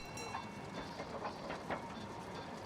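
A train rolls along its track in the hand-drawn puzzle video game Gorogoa, giving a steady, fairly quiet rumble with faint rhythmic clatter that runs evenly throughout.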